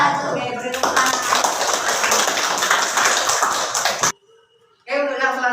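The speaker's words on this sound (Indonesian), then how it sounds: "beri tepuk tangan" A classroom group applauds during a school lesson, broadband clapping filling the room for several seconds before a pause, then a voice speaks again at the end.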